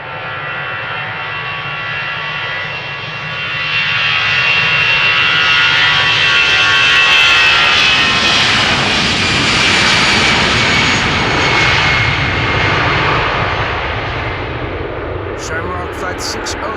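Jet airliner taking off from Amsterdam Schiphol in snow, a loud, broad engine roar swelling from about four seconds to a sustained peak, then easing slightly as the aircraft climbs away.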